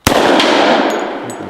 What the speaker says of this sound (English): I'm going to shoot for the hanging propane tank over there, and maybe you guys can hear it if I hit it.